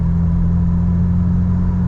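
A Jeep TJ engine fitted with a custom exhaust drones steadily and loudly, a low hum with even harmonics and no sharp rise in pitch, heard alone.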